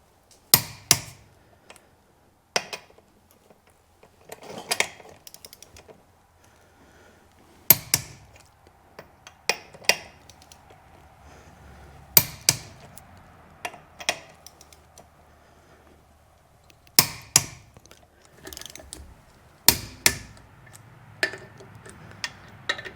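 A torque wrench clicks sharply in short bursts as lug nuts on a car wheel are tightened in a star pattern while fitting winter tires and wheels, each click distinct and close with quiet pauses between sets.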